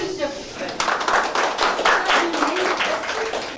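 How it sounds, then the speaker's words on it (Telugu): Villagers clapping at a public gathering for a safe drinking water project, a rhythmic patter of hands with a voice speaking over and between the claps. "గట్టిగా చప్పట్లు కొట్టాలి"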